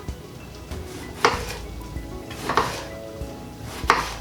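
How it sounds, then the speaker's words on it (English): A knife slicing aubergines into thin discs on a board, making three sharp cutting knocks about a second apart over quiet kitchen background. "it's a good idea to start slicing the aubergines"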